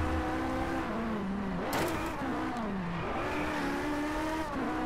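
Ferrari racing engine in the Driveclub video game on a Japanese circuit, a steady loud drone with rising and falling pitch as it revs through gears, plus a brief burst of tire noise midway.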